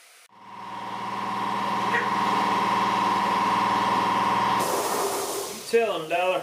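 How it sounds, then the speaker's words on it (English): A 12-inch Rucker straight razor is ground on a powered grinder, a loud steady motor whine with a harsh hiss of metal on the wheel, cutting off abruptly before a voice begins speaking. "Here I'm grinding one of the 12-inch straight edges"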